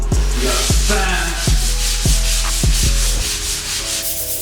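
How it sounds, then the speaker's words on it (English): Drywall is sanded by hand in a home gym build in a steady run of about eight close, loud abrasive strokes with a regular back-and-forth rhythm, the rasp ending in a softer scrape, with no talk. "This is the smooth side I just sanded."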